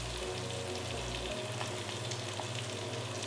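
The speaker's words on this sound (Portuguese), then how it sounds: "A gente derrete um pouco essa manteiga. Enquanto essa manteiga derrete, nós vamos entrar com uma média de 10 gramas de cebola picada" Chopped onion, cut brunoise, sizzling in melted butter in a pan: a steady, dense crackling fry with a low hum underneath, no talking.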